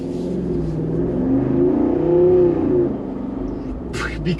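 A Jeep Wrangler Rubicon 392 engine revs up in one long rising and falling roar, loud and close, before settling back.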